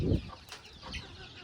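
Chickens and a rooster cluck in a farmyard, a loud low burst up close followed by scattered softer clucks and calls, with faint voices in the background.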